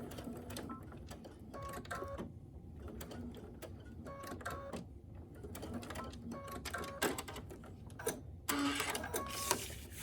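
A sewing machine top stitches a vinyl bag in short, close bursts of rhythmic mechanical chatter, starting and stopping several times, with a louder rustle near the end.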